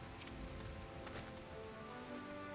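Rain patters steadily in Final Fantasy XIV, a soft continuous hiss with light droplet ticks and faint tonal game ambience behind it.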